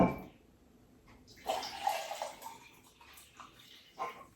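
Hot water that has already been boiled is poured into a cup, a faint, low splashing trickle that rises and falls in short pulses, quiet and close.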